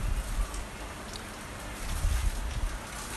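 Steady rain falls in Maryland, a dense close hiss of drops and patter with no voices, fluctuating slightly in loudness.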